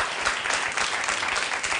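Studio audience on an Italian cooking show applauding two contestants who finished their dishes on time, a dense, steady wash of clapping that fills the whole moment at close range.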